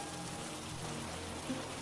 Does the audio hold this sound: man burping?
no